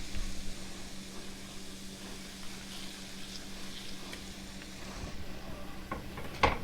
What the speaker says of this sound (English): Let's return our fish to the pan.